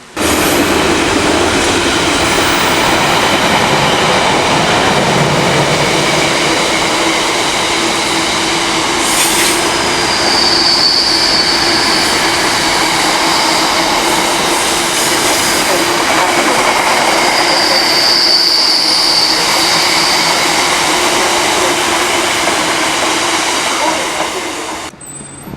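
Train pulling into Chelmsford station, a loud continuous rolling rumble of carriages with two short high wheel squeals partway through, the noise running steadily until it eases off at the end.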